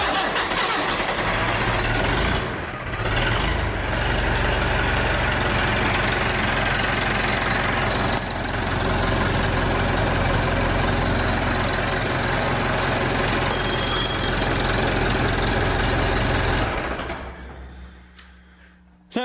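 A Perkins 3.9 four-cylinder diesel engine in a Massey Ferguson 270 tractor cranks, fires and runs loudly and steadily up close at full throttle for most of the stretch, then cuts off near the end.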